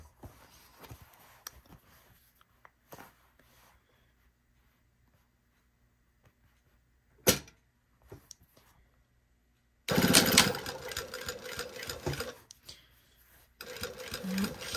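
A domestic sewing machine runs in short bursts over a seam, with quiet handling noises and long pauses, then a loud sustained stitching run near the end.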